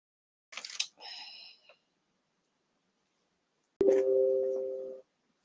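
Telephone call tones on a UK line: after a short burst of sound, a steady tone starts abruptly and holds for more than a second before cutting off, clear and close.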